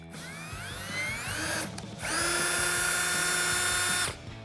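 A drill boring a hole with a 7/32 inch bit for fitting a ducktail rear spoiler on a 2008-2019 Dodge Challenger, two loud close whining bursts of drilling separated by a brief pause, no talk.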